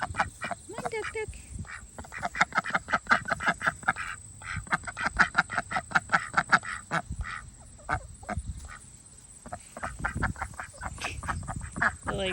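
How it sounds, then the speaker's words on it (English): Ducks quack loudly and rapidly in a garden, a dense run of close calls that continues throughout, with a person calling to them over the noise. "Come on, duck, duck, duck, duck."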